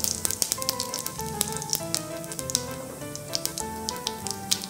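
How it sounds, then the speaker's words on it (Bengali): Whole cumin seeds dropped into hot oil left from frying rui fish crackle and sizzle steadily, with dense bright spitting pops and a faint musical tone running through underneath. "এর মধ্যে সামান্য একটু গোটা জিরে দেব"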